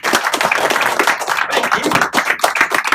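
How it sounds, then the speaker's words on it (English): Audience round of applause at a talk, dense steady clapping from many hands, close and loud throughout the short burst. "Beginning with a round of applause."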